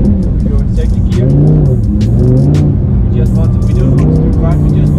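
A supercar's engine revs and surges as it drifts in continuous circles on ice in second gear, the note rising and falling steadily, close and loud, with people talking over it throughout.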